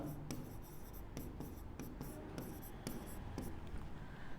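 A pen scratches out an equation on paper, steady close-up strokes with quick taps and scrapes repeating over a few seconds, alone and fairly quiet.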